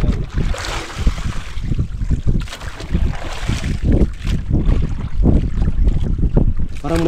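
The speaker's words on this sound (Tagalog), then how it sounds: "Grabing alon dito mga katropa sa ano, gitna ng karagatan." Rough water and wind at sea in the open ocean, with waves slapping and rushing around a small boat amid constant gusty wind noise, loud and close throughout.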